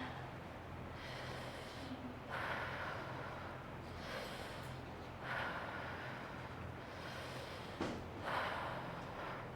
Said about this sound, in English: now that we've done our breathing